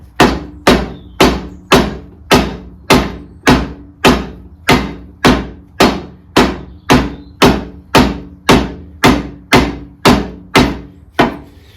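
Hammer blows driving a steering part onto the shaft of a 1960 Bolens Ride-a-matic tractor, about twenty sharp, close metallic strikes in a steady, even rhythm with no talk.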